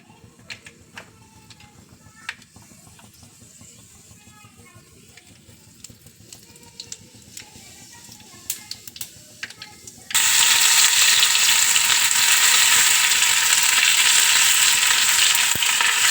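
Hot oil sizzles in a pan on a home stove as garlic, ginger and poppy seeds go into it for fenugreek-stem bhaji, starting suddenly and loudly after a quieter spell of faint clinks and kitchen rustle, then hissing steadily.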